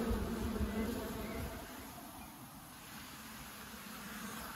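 Honeybees buzz steadily around an open hive in a hot rural apiary, a dense continuous drone close by with no talking.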